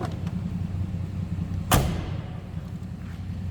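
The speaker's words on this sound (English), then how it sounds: "Listen to how those doors close." A single solid door of a 1965 Plymouth Belvedere sedan slams shut, one sharp thud over its steady idling slant-six engine hum.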